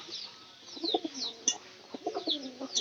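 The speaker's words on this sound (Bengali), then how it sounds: "এই কবুতরটা দেখলো, এরা যদি আর একটু ওখানে যাই পানি খাওয়ার চেষ্টা করবো নিশ্চিত।" Pigeons cooing near a water spot, soft repeated throaty coos with a few higher chirps, fairly close and moderately loud, with no talk over them.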